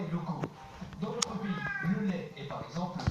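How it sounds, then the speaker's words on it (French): A house cat meows repeatedly at close range over about three seconds, each cry a short wavering call in quick succession. "il y a un chat qui pleure"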